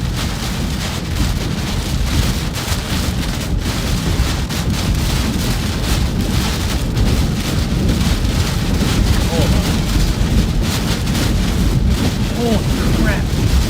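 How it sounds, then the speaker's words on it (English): Strong gusting wind of about 40 to 45 mph roaring across a cornfield during an Illinois storm, a loud continuous rush with heavy microphone buffeting and no pauses. "we probably have sustained winds of 40 to 45 miles an hour right now"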